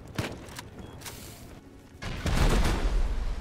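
Gunfire in the survival game Rust: a few sharp, separated shots early on, then a louder sustained burst of rapid fire and booming noise toward the end.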